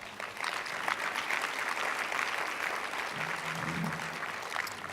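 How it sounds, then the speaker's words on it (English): A lecture audience gives the planning committee a round of applause, a sustained, even rattle of many hands from a seated crowd, with a voice briefly audible under it. "Will you join me in giving them a round of applause?"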